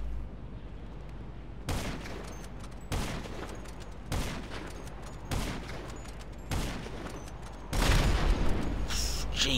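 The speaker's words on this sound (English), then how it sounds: "That's 22 sniper shots." A series of sniper rifle shots in GTA 5 Online, about six loud sharp reports at roughly one-second intervals, each trailing into a short boom over steady low game ambience.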